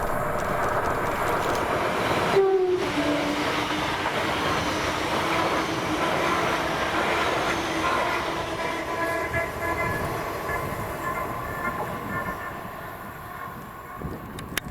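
ScotRail Class 385 electric multiple unit pairing passing through Carluke station on a Lanark to Glasgow Central service, a steady loud rumble of wheels on rail with a brief horn-like tone and faint squeal, fading slightly toward the end.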